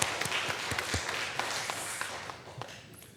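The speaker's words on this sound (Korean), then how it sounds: "우리 하나님께 영광의 박수를 한번 해주시죠." Scattered applause from a church congregation after a sermon, a fairly quiet patter of claps with distinct individual hand claps standing out, continuing steadily without voices.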